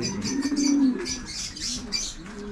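Racing pigeons coo in low murmuring bursts, with brief wing flaps and faint chirps mixed in, close by in a loft setting without talk.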